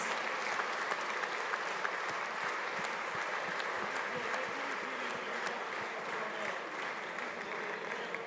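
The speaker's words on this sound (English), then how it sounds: "Big round of applause." Sustained applause from a room full of people at the 2014 EICMA Yamaha R1 press premiere, steady and dense clapping that continues throughout without pause.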